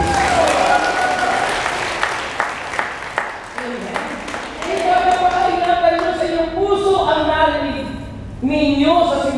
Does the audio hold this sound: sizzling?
no